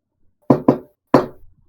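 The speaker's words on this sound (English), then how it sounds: "You can knock on Ulster's door or you can enter in." Door knock sound effect from The Magnus Archives: three firm raps on a wooden door, two quick ones followed by a single knock after a short pause, close and clear.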